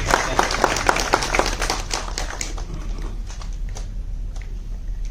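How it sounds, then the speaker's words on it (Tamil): An audience claps at a public talk by a film director, a brisk burst of hand claps up front that thins to scattered claps and then fades out. "கைத்தட்டுங்க, இதுக்குதான் கைத்தட்டணும்"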